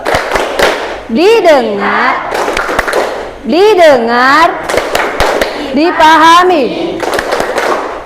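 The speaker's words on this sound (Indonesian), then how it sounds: "Tepuk fokus." Indonesian students in a classroom do a rhythmic focus-clapping routine, crisp group claps in quick patterned bursts mixed with a teacher's and children's chanted voices.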